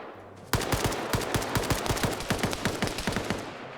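Gunfire in a tactical video game fires as a rapid, sustained automatic burst of sharp, evenly spaced shots, loud and close, starting abruptly and running to the end.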